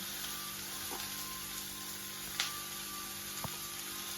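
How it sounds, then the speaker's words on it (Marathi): Capsicum and onion roasting in a pan for a curd-based bell pepper dish, giving a steady, even sizzle with a couple of faint utensil clicks and no voices. "शिमला मिरच पण व्यवस्थित भाजून घ्यायची म्हणजे कच्ची राहत नाही ती"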